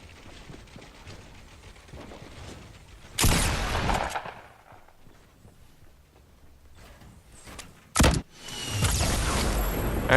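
A rocket launcher explosion in Fortnite Battle Royale, a sudden loud broadband blast that rings out for about a second amid quieter game noise, followed later by another sharp burst and a sustained rumbling tail.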